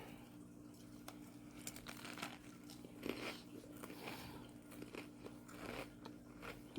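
Crunchy bites and wet chewing of a fresh veggie sub sandwich loaded with avocado, close and intimate, with repeated crisp crackles and soft mouth sounds, no speech.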